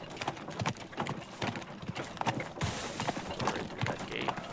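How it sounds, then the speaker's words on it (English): Horse and carriage hooves clop in a quick, uneven rhythm in Teardown, close and moderately loud, with a soft rumble of wheels and faint speech underneath. "Burn out some of my horse and carriage here."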